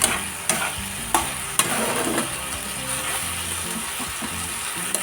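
Spices sauté in a pan for aar fish curry, with a steady close sizzle broken by several sharp scraping clicks of a spatula stirring against the pan.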